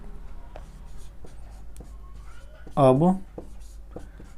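A pen scratches across paper while a class 10 maths equation is worked out; short writing strokes come up close and clear beneath a steady speaking voice, with one louder scribbling burst partway through.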